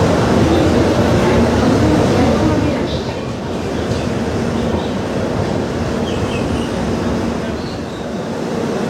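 Passenger train pulling into New Jalpaiguri (NJP) railway station, a loud, steady rumble of wheels and carriages that stays heavy throughout, easing slightly midway, with no talk over it.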